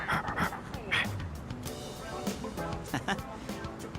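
A dog in Persona 3 Reload pants in quick, breathy bursts with a few small yips and whimpers, close by, while a person talks throughout.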